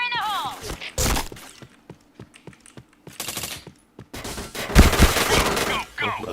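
Rapid gunfire from a samurai-themed multiplayer shooter game, with bursts of shots and sharp transients scattered across the clip, loud at moments, with voices talking over parts of it.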